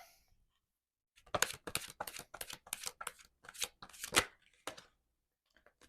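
Tarot cards are shuffled and drawn in a close, crisp run of rapid riffling snaps lasting a few seconds, followed by a couple of faint card flicks in near silence.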